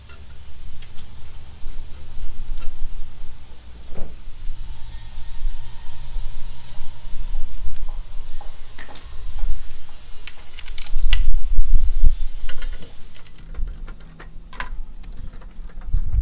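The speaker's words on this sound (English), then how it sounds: "we'll come back with the torque wrench to put it on" A torque wrench tightens nuts on a lawn mower: quiet, irregular ratcheting clicks and small metallic taps over a low, steady background hum.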